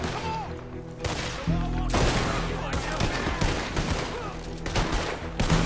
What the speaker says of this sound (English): I just wanted to see if I could shoot a vase.